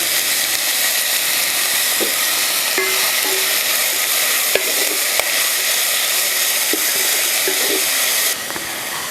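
Fresh curry leaves drop into hot oil with onions for a Kerala chicken stew, producing a loud, continuous, hissing sizzle with a few scattered crackles and stirring clicks.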